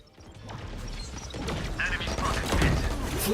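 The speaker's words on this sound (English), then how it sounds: "Flashbang." A flashbang grenade goes off in a first-person shooter game, a sharp crashing burst that swells and fills the mix over a rising bed of game noise and faint background voices.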